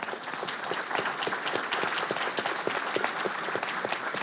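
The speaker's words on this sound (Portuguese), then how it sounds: "Peço uma salva de palmas para eles." A conference audience gives steady, dense applause to the panelists at a satellite industry congress. Many hands clap evenly for the whole stretch, sounding full and close with a slight crowd murmur, and no one speaks.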